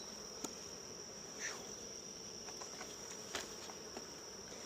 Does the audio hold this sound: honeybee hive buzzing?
yes